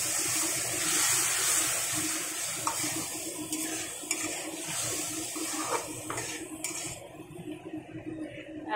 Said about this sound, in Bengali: মশলার জলটা দিয়ে দিলাম।